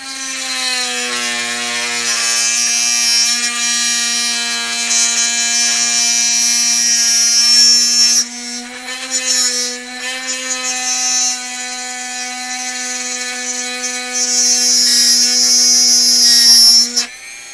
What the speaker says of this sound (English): This one's probably going to be a little bit loud, so Dremel warning.